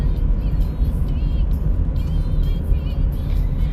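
Steady low engine rumble and road noise fill the inside of a moving car, with a faint high whine on top and no clear speech.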